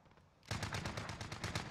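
Automatic gunfire in Warzone starts after a brief quiet lead-in, then runs as a loud, rapid, evenly spaced string of shots until the end.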